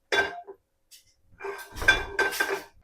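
A frying pan set down on a stove, ready for a sardine fry: a short metallic clank, a pause, then a pair of louder clattering knocks of metal on metal, close and alone.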